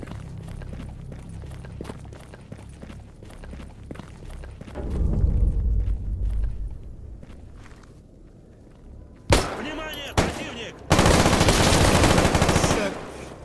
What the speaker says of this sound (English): Wish I had a suppressor for this handgun